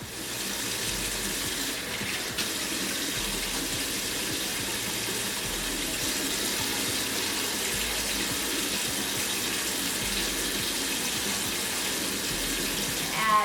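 Tap water runs steadily into a sink while a face mask is rinsed off, a constant close splashing hiss that continues unbroken, with a brief clatter near the start and no talking.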